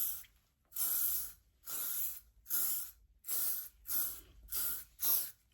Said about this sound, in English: I'm going to pop some hairspray in it